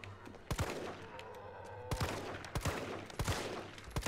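Gunfire at zombies in the Resident Evil 3 Remake, with several sharp shots spaced irregularly across a few seconds over a low rumbling game backdrop.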